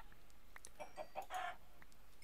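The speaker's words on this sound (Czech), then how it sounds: "Je, slepice!" Chickens clucking in the video game Minecraft, a few short fowl clucks over a steady background hiss, moderately faint.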